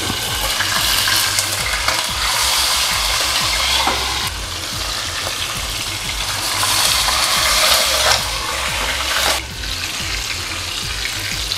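A pork asado roll fries in a pan for a Kapampangan Christmas dish, a steady loud sizzle broken by scraping and turning sounds as the meat is moved to brown every side.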